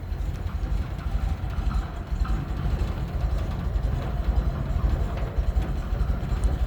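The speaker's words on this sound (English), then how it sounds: "So I want to show you the engine bay with it running." A 1963 Chevrolet Corvair Monza 900 Spyder's turbocharged flat-six idles steadily, heard up close in the engine bay as a continuous low rumble with a fast, even pulsing throb.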